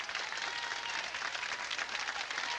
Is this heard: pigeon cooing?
no